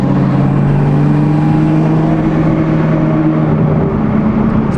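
Steady engine drone of a Subaru STI being driven, heard from inside the cabin, with a low constant hum and slight pitch shifts as it cruises, continuous and fairly loud with no talk.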